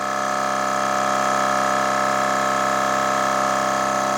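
A cordless air compressor runs steadily, its motor making a loud, unbroken droning hum with a buzzing edge and no pauses.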